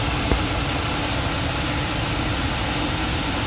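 A Volkswagen Polo engine idles steadily, a low even hum beneath a broad hiss of cabin blower air, continuous and unchanging with no voices.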